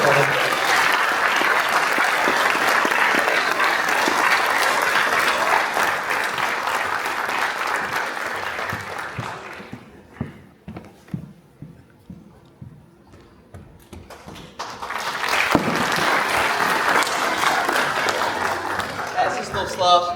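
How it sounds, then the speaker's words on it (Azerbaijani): A concert audience applauds a vocalist's solo performance with sustained, loud clapping that thins to scattered claps halfway through, then swells again into full applause, heard from within the hall. "o şəxsi bura sizin gürültülü alqışlarınıza dəvət edin"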